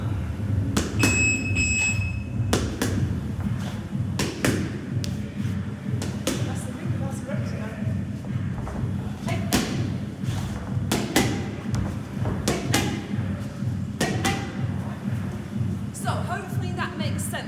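Jabs and crosses smack into boxing pads during a gym footwork drill, a series of punchy thuds at an uneven rhythm between shuffling steps, with voices in the background.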